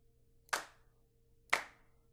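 Two sharp sampled handclaps from a MIDI drum kit's clap sound, played one second apart, crisp and close with nothing else around them.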